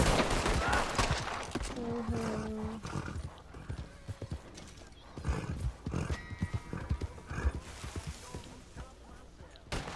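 Horse in Red Dead Redemption 2 gallops with rapid hoofbeats and gives a loud whinny early on, while bursts of gunfire and brief exclamations from a player break in around it.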